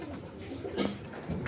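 A pet pigeon gives a short, soft, low coo nearby, faint against a quiet background.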